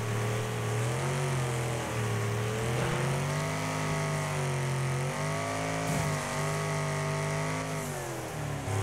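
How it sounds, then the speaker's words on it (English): A turbocharged small car engine at a racing event revs continuously, rising and falling in pitch through gear changes, loud and close with a steady droning tone and no talking. "That turbo made hell of a difference on that engine."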